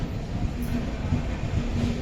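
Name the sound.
Konkan Kanya Express train arriving at station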